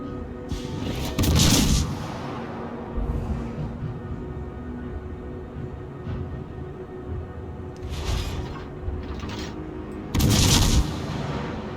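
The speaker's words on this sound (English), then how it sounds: "Now I've gotten used to the sound of the cannons." Several booming warship cannon shots from the video game World of Warships, loud bursts spaced out over a steady background rumble, with a couple of clustered blasts.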